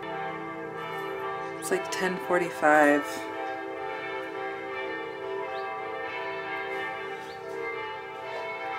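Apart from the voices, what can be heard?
church bells ringing on a Sunday morning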